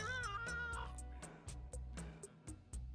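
Cartoonish cat meows and mews from the video game Mewgenics come in short repeated bursts over soft game music with percussive ticks, quiet overall.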